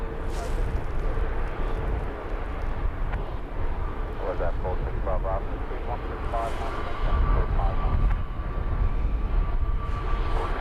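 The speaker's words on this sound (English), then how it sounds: "Jet 2 Holidays making its way out." A Jet2 Holidays airliner departs London Luton Airport, its engines producing a steady broadband roar that swells slightly toward the end, heard at a distance with outdoor wind noise throughout.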